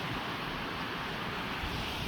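Bessemer Falls on snowy Mt Bessemer in Washington's Middle Fork Snoqualmie Valley pours as a broad, steady roar of rushing water, close and constant, with no voices.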